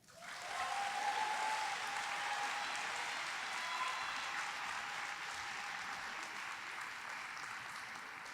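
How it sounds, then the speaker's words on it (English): An audience at an eighth-grade graduation ceremony breaks into sustained applause, a steady wash of clapping that rises quickly and holds for several seconds, sounding somewhat distant in a large room. "Please share a round of applause for Anna Boardman."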